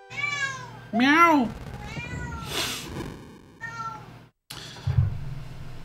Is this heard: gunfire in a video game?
no